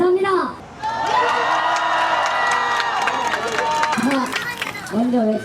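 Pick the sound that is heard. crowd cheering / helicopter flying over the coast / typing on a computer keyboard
crowd cheering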